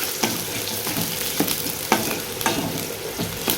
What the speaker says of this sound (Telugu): ఆయిల్ హీట్ అయిపోయింది ఇప్పుడు ఉల్లిగడ్డలను ఒక రెండు పచ్చిమిర్చి వేసుకున్నాను